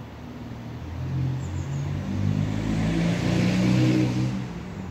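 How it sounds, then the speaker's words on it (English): Steady road traffic near a pub, with a car engine passing and revving, a continuous low rumble that swells toward the middle and end, with no talk over it. "It's hard to understand with all the traffic, guys, seriously."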